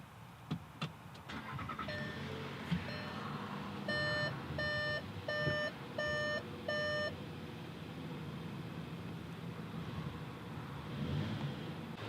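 A 2020 Volkswagen Atlas Cross Sport SEL 2.0T, started with a push button while the foot holds the brake, sounds a bright run of repeated electronic chime beeps inside the cabin over low engine hum and light clicks.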